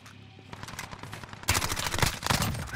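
Gunfire rattles in a Call of Duty match, with scattered shots building into dense, loud bursts of automatic fire and no talk.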